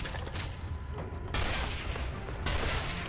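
Carbine gunfire in Zombie Army Trilogy with heavy recoil, heard as dense, loud volleys of shots over a continuous roar of game action.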